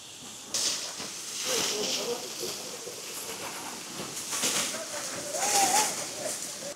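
Water falls from a height at Changey Falls along the East Sikkim Silk Route, a steady broad rushing hiss throughout, with a person speaking over it.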